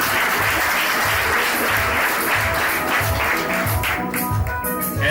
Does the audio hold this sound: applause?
yes